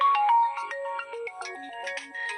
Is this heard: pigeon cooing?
no